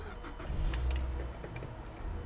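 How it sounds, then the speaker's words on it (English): A car engine cranks and catches nearby, a low rumbling start with some jingling of keys over the top, then settles into a steady idle. "And now we can turn the car on and give it power."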